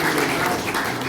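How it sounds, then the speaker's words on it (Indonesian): Audience applause fills a training session on professional therapy techniques, a dense, steady wash of clapping from a room of people, loud and continuous with no talk over it. "Sekali lagi tepuk tangan untuk Master Jenal Mutakin."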